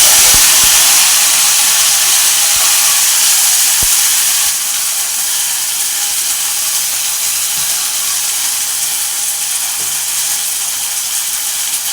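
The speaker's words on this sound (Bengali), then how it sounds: "এবার দিয়ে দেবো যে আগে থেকে বেটে রাখা মশলাটা" Ground spice paste hits hot oil in a soybean curry pan, setting off a loud, steady sizzle and hiss that stays strong and fairly even, easing slightly after the first few seconds, with no voices.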